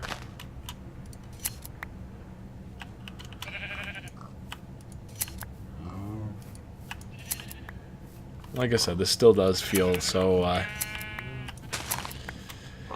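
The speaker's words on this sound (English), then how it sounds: "Just going around shearing the sheep." Shears snipping and sheep bleating in the Minecraft video game, several short bleats and clipping sounds scattered under someone talking.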